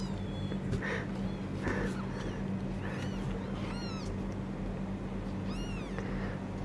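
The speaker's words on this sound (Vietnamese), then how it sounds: "Là con nó công, nó kêu tiếng nhỏ nhỏ, thành ra là con mẹ đã nghe thấy" A kitten meows softly several times, small high cries spaced a second or two apart over a steady low background hum.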